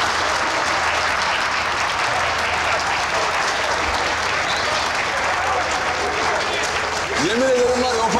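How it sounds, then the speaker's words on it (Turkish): Audience applause in a theatre-like hall, a dense, steady wash of clapping sustained for about eight seconds at even loudness, with a voice briefly rising near the end. "Onlar için çok sıkı bir alkış istiyorum."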